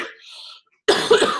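A single person coughs on a Zoom call, a short harsh burst after a pause, loud and close to the microphone, preceded by faint talk.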